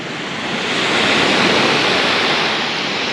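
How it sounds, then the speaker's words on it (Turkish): Ocean waves break on the shore in Aceh, Indonesia, a loud continuous roar of surf that swells and holds steady with no voices. "Ama gerçekten dalgalar çok güzelmiş ya."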